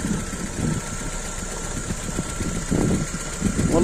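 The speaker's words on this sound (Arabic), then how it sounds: "نسمع صوت قربيع هكا في الموتور" A car engine idles with a knocking noise and an oil filler cap showing water or condensation, a steady close mechanical drone with a faint repeating tapping running through it.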